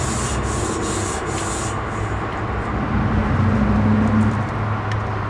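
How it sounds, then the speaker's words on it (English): A stainless steel kitchen scrubby rubs against a rusty vending machine rack in steady, continuous scrubbing strokes, close and fairly loud, with no talking. "Stainless steel kitchen scrubby, and that works very good on the curves."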